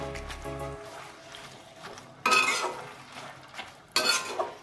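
Spinach and tomato are stirred in a pan with a spoon, producing soft scraping and a light sizzle. Two louder bursts of clattering utensil and pan contact break through, and there is no talking.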